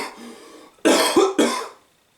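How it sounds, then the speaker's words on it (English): A few sharp coughs burst out close by, three quick harsh hacks after a brief quiet murmur. "Don't worry, it's not a COVID cough."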